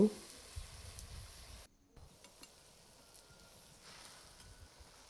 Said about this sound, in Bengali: এখন আমি 7-8 কোয়া রসুন কুচি দিয়ে এখন আমি আগে থেকে ধুয়ে রাখা শাকগুলো দিয়ে দিব।